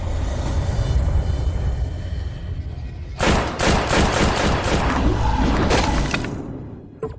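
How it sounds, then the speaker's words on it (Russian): Rapid bursts of gunfire in an animated ghost story fire off close and loud, a dense volley crackling for several seconds after a rumbling buildup, then cutting off abruptly. "Стой на месте, иначе я стреляю."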